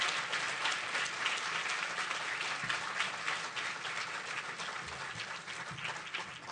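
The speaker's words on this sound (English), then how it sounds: "A big round of applause to everyone who is standing." Audience applause fills an inaugural ceremony for a Secretary of State, dense and sustained clapping from a crowd that stays fairly even and slowly tapers toward the end.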